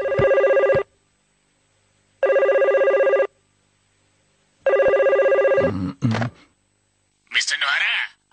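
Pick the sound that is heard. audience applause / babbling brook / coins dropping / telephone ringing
telephone ringing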